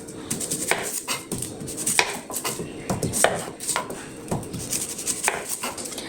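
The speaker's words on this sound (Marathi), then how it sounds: "याच्यानंतर आपण कांदा चिरून घेऊ आणि कांदा घालून हे भरीत करूया." A knife chops onion for a thorny-eggplant bharit, a steady run of crisp, close cuts on a board with a few louder knocks, no voices.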